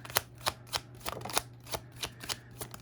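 Tarot cards are shuffled and drawn in a run of about ten crisp, evenly spaced snaps and flicks, close and clear, with a low steady hum underneath and no talking.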